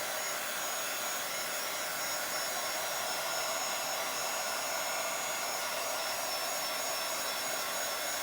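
A heat tool blows a steady, loud, airy whoosh as it dries ink on a Bible journal page, running unbroken and close throughout without any voices.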